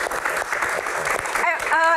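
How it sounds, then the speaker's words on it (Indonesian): Audience applause on a talk show, brief scattered clapping from a studio crowd mixed with voices speaking. "Tepuk tangan dong"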